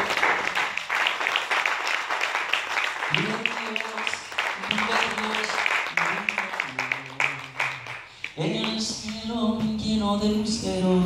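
A church congregation claps along in steady, dense applause while voices sing over it throughout, joined by a louder burst of singing near the end.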